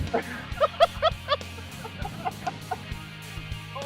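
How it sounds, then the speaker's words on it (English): A rooster clucks in a quick burst of sharp calls, then a few scattered clucks follow over a steady low background rumble. "Rooster running."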